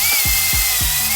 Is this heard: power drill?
yes